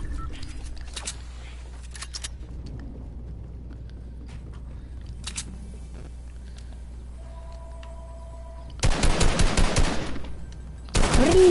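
Rapid automatic gunfire in the Arena video game, loud bursts near the end after quieter scattered shots and ambient game noise earlier.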